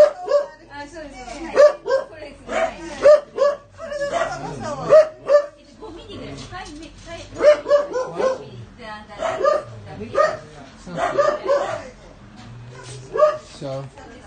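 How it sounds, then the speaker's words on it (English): A small dog barks repeatedly in quick yips and bow-wows, fairly close, scattered across the whole stretch while a person talks over it. "the barking is driving me crazy"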